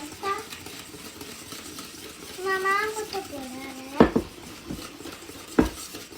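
Chocolate cake batter ingredients are mixed in a bowl, with a utensil clinking and scraping against the bowl in a few sharp knocks and soft stirring sounds while a person talks over it.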